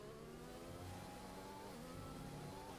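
Formula 1 race car engine at full throttle in an F1 video game, a steady high-pitched whine held at a constant pitch, faint and distant.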